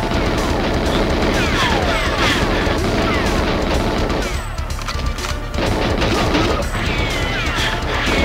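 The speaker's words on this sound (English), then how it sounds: "I'll gun down a few more guards because I actually have the time." Sustained rapid gunfire blasting guards in GoldenEye 007, loud and dense with crashing impacts and mechanical clatter, a brief dip midway before the shooting resumes.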